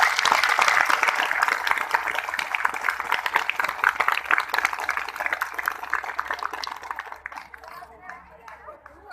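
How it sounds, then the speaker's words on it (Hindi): Loud, dense applause from a big crowd at a rural Hindi festival gathering. Strong sustained clapping fills most of the clip, then thins out and fades near the end. "तो मैं चाहूंगा कि जोरदार ताली आपकी तरफ से सबके लिए।"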